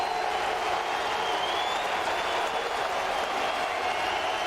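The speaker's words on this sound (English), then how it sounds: "Crowd coming to its feet." A baseball stadium crowd at a Dodgers–Mariners game applauds and cheers steadily as fans rise to their feet, a dense, even wash of clapping and roar with no break.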